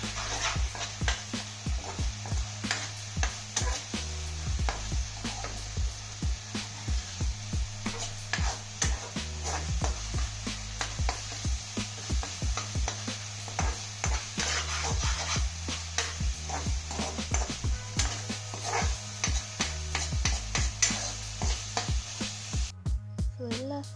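Food frying and being stirred in a pan during Indian home cooking, with a steady sizzle and a repeated scraping, rhythmic stirring throughout. It is close and moderately loud, with no talk.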